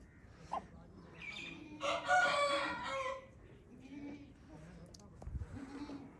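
An Aseel rooster crows once in the middle, a drawn-out call at moderate distance, with faint voices and scattered rustling before and after.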